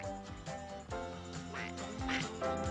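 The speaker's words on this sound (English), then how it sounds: "And Mother Duck is there too, quacking away at them." A mother duck quacks repeatedly beside her ducklings on a bridge over water, a series of close, loud nasal calls in an uneven rhythm over a busy background.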